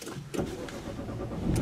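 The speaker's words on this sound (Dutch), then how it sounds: "Dan moet ik mijn auto gaan starten, zeker." A car engine cranks and catches, a short burst of starter whirr rising into a steady low idle, close by and without talk.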